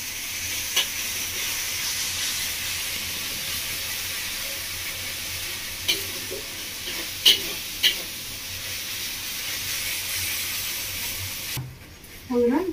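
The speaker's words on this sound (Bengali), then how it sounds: "আদা রসুন দিতে ভালো করে মিশিয়ে নেবো" Ginger-garlic paste stirred and frying in a pan for a Bengali village-style prawn curry, with a steady close sizzle and occasional spoon scrapes and taps throughout, ending with a brief voice.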